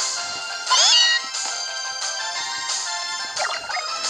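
Meowth's cry from the video game Pokémon Sun, a loud synthesized meow with a rising pitch sweep, set over continuous game music and followed by another shorter cry near the end.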